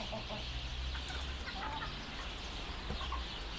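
Chickens cluck and murmur softly at a distance over a steady outdoor background in a Turkish village, with a few brief bird-like calls scattered throughout.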